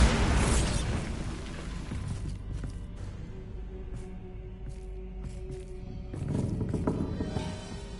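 A Bombarda explosion spell in Hogwarts Legacy opens with a loud, booming burst, then decays into a rumbling ambience with scattered clatter before a second swell of noise near the end.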